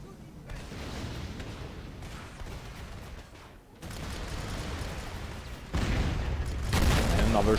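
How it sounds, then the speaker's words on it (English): Aziz battle cannon shots in the real-time strategy game Rise of the Reds, heavy booming artillery-like blasts over a dense battle din that grows louder toward the end. "Another shot of the Aziz battle cannon won't be enough to dispose of those 2 sentinel tanks"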